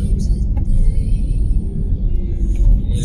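Slow, congested traffic idles at the Boulevard Panakukang intersection in Makassar, a loud low engine rumble filling the scene with faint higher hiss and small bumps of passing vehicles.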